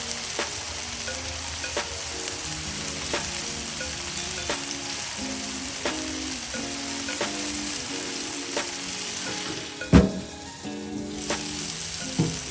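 Bacon jalapeno smash burgers topped with cheddar jack cheese sizzle on a Blackstone griddle, a constant loud frying hiss broken by regular scraping taps of a spatula and a sharp clank near the end, no voices.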